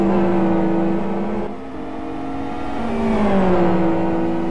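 GT1 World Series race cars racing around a track, with a continuous loud engine whine that rises and falls in pitch as they accelerate and shift, several cars overlapping.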